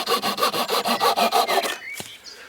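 Glority DJS-20 folding Japanese pull saw cutting through wood on its coarse edge, about a dozen quick, even rasping strokes close by, ending with a sharp crack and a few faint scrapes.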